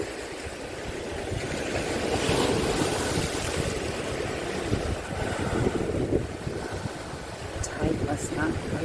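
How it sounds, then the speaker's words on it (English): Sea waves wash up onto a sandy beach where green sea turtles rest as the tide comes in, making a steady, swirling rush mixed with gusty wind noise on the microphone. "Just love the way the water taps up on the sand, creates the beautiful, swirly, lacy white"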